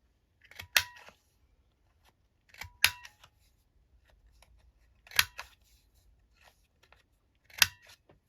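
A corner rounder punches the corners of paper journaling cards, four crisp crunching snips spaced about two seconds apart, close and clear against near silence.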